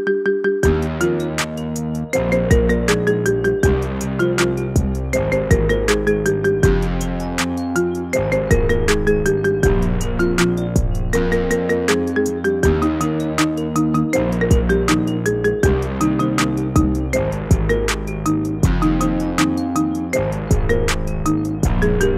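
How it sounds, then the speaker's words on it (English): A bright, bouncy marimba melody repeats in a looping electronic ringtone pattern, loud and steady with a driving beat throughout. "Get this cool ringtone for your phone now."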